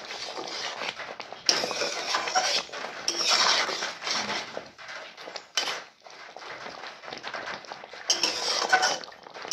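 Potato and pointed gourd curry being stirred in a metal pan, with repeated scraping and clinking of a spoon against the pan in uneven bursts, close and fairly loud.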